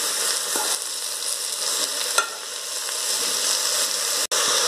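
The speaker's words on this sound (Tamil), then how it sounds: "கொஞ்சம் எண்ணெயிலே வதங்கட்டுங்க" Ridge gourd and onion sauté in oil, giving an even, close frying hiss with a few soft stirring scrapes and one brief dropout near the end. No one speaks.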